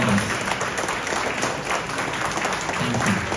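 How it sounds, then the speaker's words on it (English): An audience applauds at a 50th birthday celebration, with dense, sustained clapping from a large crowd filling the room, steady and fairly loud from start to finish. "give a stunning round of applause for his"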